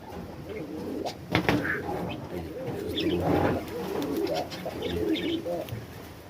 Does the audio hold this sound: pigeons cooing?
yes